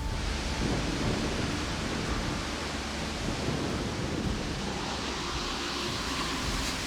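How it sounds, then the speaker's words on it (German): A sudden rain shower falls during a bikepacking trip, a steady soft hiss of rainfall filling the whole stretch without pause. "Es regnet."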